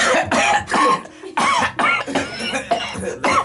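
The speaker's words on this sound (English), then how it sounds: "I'm gonna clear my throat" A man clears his throat and coughs in a studio, short harsh bursts close to the microphone.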